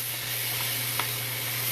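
Chopped vegetables and tomato sizzle in a non-stick pan with a steady, loud frying hiss, broken once by a faint stirring scrape, with no voices.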